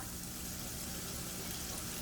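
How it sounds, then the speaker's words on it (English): Flour dropped into hot frying oil in a pan for chicken strips gives a steady, low, continuous sizzle with a broad hiss throughout, heard up close and alone. "You drop the flour in there and it'll start to sizzle."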